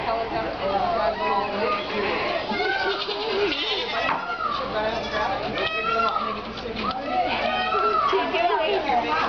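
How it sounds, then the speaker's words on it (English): Goats bleat repeatedly in wavering, nasal cries over steady background chatter from nearby people; several animals call throughout. "Do you really want to watch the goats?"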